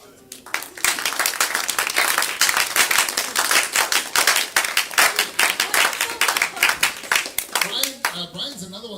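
Lively clapping from a youth group audience at an awards night, loud and close, a burst of many hands sustained for several seconds before tapering off as a voice begins to speak.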